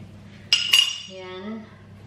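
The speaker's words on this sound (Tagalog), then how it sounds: "Nag-dissolve tayo ng gravy powder." Gravy powder stirred and dissolved in a kitchen: two quick metallic clinks of a utensil against a dish, close and bright, followed by a soft ringing tail over low background hum.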